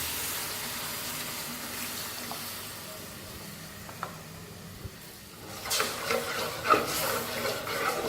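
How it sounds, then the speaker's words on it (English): Milk trickling slowly into a hot pan for white sauce for macaroni, a soft steady sizzle with faint splashing that swells louder toward the end. "you need to make sure you put the milk very slowly"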